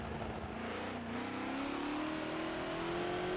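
Race car engines in the Forza racing game, a Chevy trailing close behind, with a steady loud engine note climbing in pitch as the car accelerates, no talk.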